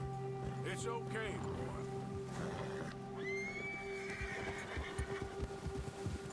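A horse whinnies in Red Dead Redemption 2, a rising neigh early on, with clip-clop hooves and ambient game music under the mix while a person talks.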